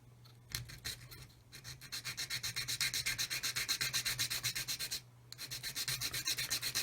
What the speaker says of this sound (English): put the sanding stick in between there like that, and then with this I can